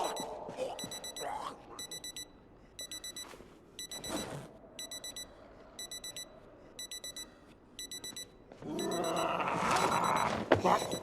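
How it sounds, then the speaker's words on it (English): A video game alarm clock beeps in rapid repeating bursts of high electronic tones, steady and insistent over a low rumbling background, with a louder roaring noise swelling near the end. "That's my alarm."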